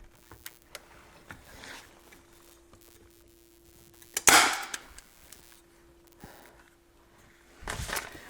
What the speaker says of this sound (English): let me grab my stapler. Gonna hear a loud bang here.